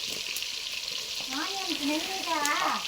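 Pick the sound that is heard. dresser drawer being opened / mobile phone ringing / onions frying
onions frying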